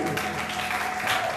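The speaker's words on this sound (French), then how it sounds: "Est-ce que tu peux acclamer pour ce monsieur?" Applause from a church congregation, a steady broad wash of clapping and cheering held through the short stretch, loud and close with no pauses.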